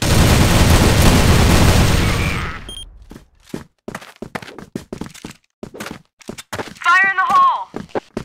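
A grenade blast in the video game CrossFire roars loud and broad for about two seconds, then fades into scattered sharp clicks and thuds, with a brief voice near the end.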